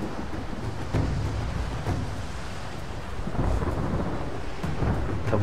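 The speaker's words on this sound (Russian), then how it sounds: "Это буря еще надвигающаяся." Rumbling thunder rolls through a steady rain-like wash as a storm approaches in the snowy mountains of Rise of the Tomb Raider, with low booms swelling around the start and again later, no voices.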